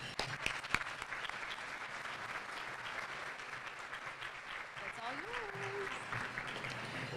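An audience at a luncheon applauds to welcome a speaker to the podium, with steady, dense clapping that lasts throughout and a faint voice or whistle briefly rising near the end.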